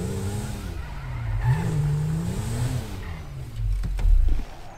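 A car driven in the Grand Theft Auto 5 video game hums along at a moderate level, its engine pitch rising and falling as it steers, ending with a louder low rumble.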